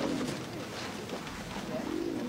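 A pigeon-like bird coos softly in repeated low, throaty calls against faint background noise, with no one speaking.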